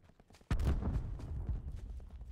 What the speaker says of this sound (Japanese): めっちゃ銃声してる けど